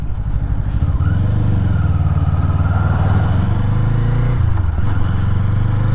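A Kawasaki Eliminator motorcycle engine buzzes steadily at around 4,000–5,000 rpm under light throttle, a loud, close, continuous drone with a slight dip in pitch near the end.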